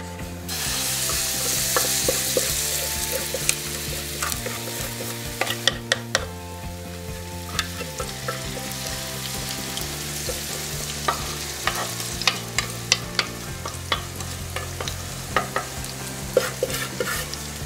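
Zucchini pizza batter is spread into a hot frying pan, giving a steady sizzle with clinks and scrapes of a utensil against the pan at close range.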